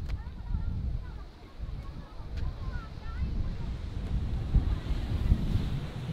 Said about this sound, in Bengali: কি ঢেউ!